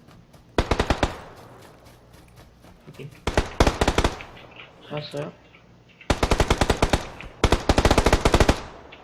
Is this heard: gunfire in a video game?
yes